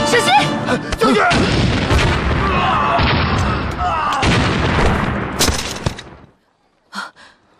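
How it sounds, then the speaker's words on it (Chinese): Loud explosions and heavy gunfire in a wartime battle scene from a drama set during the anti-Japanese war, dense booming blasts continuing for several seconds, then cutting off into near silence with one brief distant burst. "爆炸了。"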